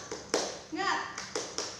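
Sharp hand claps strike in a quick rhythmic classroom clapping pattern, with a voice briefly chanting "semangat" between them.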